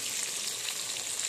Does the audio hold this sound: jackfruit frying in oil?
yes